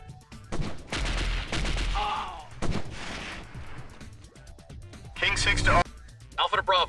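Gunfire in the Delta Force video game comes as several sharp, loud bursts of rapid shots separated by brief pauses, with some talking in between.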